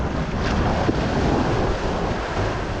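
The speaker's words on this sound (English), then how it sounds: "I just saw a couple waves come into the sea cave and spray with rainbow" Ocean waves wash near a sea cave close to shore, a steady broad roar with heavy wind buffeting the microphone and no talk.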